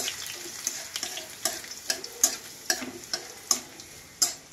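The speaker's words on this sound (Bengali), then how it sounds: "তেল গরম হয়ে গেছে, একটা শুকনা লঙ্কা, রসুন, এইভাবে কিছুক্ষণ চালাই দেব।" Dried red chili and garlic frying in hot oil, a steady close sizzle broken by sharp, regular scrapes of a spoon stirring the pan about every half second.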